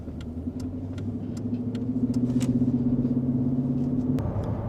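A Jaguar cruises along B roads with a steady interior engine drone and road rumble that rises a little midway and then holds steady, heard from inside the cabin.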